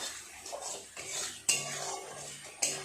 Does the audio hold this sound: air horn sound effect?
no